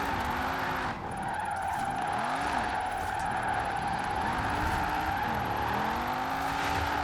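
A drift car on drag tyres in Forza Horizon 4 revs hard, with engine notes repeatedly climbing and falling in quick sweeps over a steady tyre hiss and a high whine, loud and close throughout.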